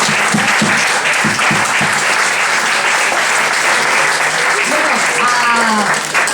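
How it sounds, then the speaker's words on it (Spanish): A room audience claps steadily for a writer after a book talk, dense and loud applause throughout, with a few voices and laughs mixed in near the start and end. "un aplauso para la escritora"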